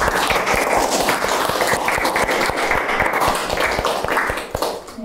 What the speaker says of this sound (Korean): 우리 서로 박수로 환영하겠습니다.